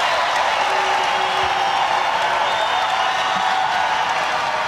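Steady, loud crowd noise fills a basketball arena in Raleigh during an NC State versus Boston College women's game, with cheering and clapping blending into a constant roar.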